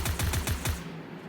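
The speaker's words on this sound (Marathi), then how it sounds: "आता ही 1 शॉट गन आहे, ही जास्त गोळ्या मारते." A shotgun fires in the Free Fire video game, six quick punchy shots in an even rapid rhythm, close and loud, then fading into quiet, with no voices.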